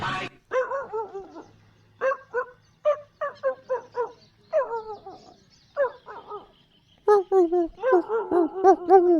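Dog barking in short, repeated yelps and whimpers, a busy run of high-pitched barks with brief pauses, close and loud.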